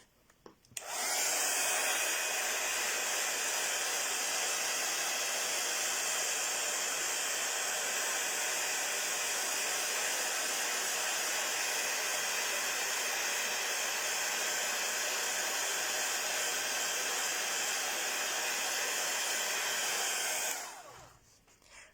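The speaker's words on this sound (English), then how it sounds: "I'm now using the heat tool to set the ink." A handheld heat tool sets ink on vellum, giving off a loud, steady blowing hiss for about twenty seconds with no voices, then switching off.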